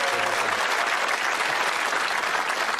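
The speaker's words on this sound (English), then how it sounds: "Give him a little cheer." A studio audience at the UK darts game show Bullseye breaks into brisk, dense applause that stays loud and close for a few seconds.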